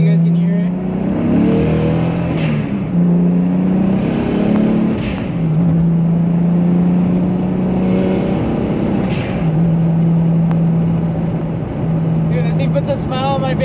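A BMW car engine accelerates hard onto a freeway while still cold and short of redline, its loud, close drone climbing in pitch through successive gear pulls.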